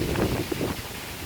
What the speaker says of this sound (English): It's so windy this footage won't come out.